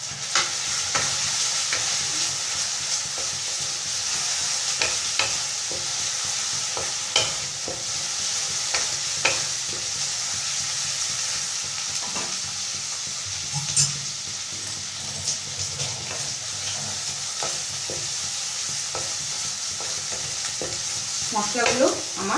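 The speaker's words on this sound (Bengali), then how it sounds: "মশলাগুলো আমার কষানো হয়ে গেছে।" Spices with garlic paste sizzle in a hot pan for Bengali chicken curry, a constant close frying hiss with a spoon scraping and stirring through it at irregular intervals, without talk.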